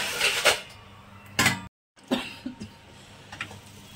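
A person coughs in a home kitchen while paratha stuffed with dal is being made: a few separate, moderately loud coughing bursts with quiet pauses and light kitchen clatter between them.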